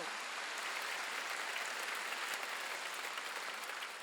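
Dense, steady applause from a crowd, sustained evenly for several seconds.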